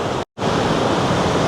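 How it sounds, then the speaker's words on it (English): A large waterfall in Krka National Park, Croatia, gives off a loud, steady broadband roar of falling water. The roar is briefly cut by a short silent gap near the start and then continues unbroken. "this is amazing, this waterfall, isn't it?"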